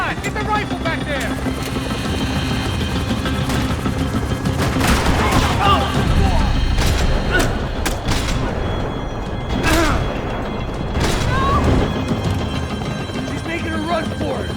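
Rifle gunfire in the video game Max Payne 3, rapid shots crackling through a dense, loud mix with a roaring helicopter and shouting voices during a chase.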